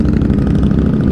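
A cruiser-style motorcycle engine idles close by, giving a loud, steady low throb with a fast, even pulse.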